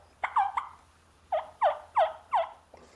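A series of soft turkey belly yelps, made on a call imitating a hen: a quick cluster of three short notes, a pause, then four more evenly spaced yelps, close and clear with no talking.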